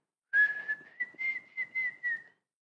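A person whistles in imitation of bird song: a string of short, bright chirping phrases at a steady high pitch, close and clear against silence.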